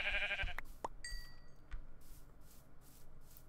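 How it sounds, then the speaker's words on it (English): Sheep in a video game let out a short bleat near the start, fairly close, followed by quiet ambient game sounds and a few soft chimes with no talking. "Sheep."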